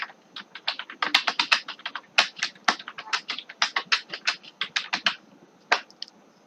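Typing code in Python on a computer keyboard, a quick, uneven run of crisp close key clicks with short pauses, heard alone.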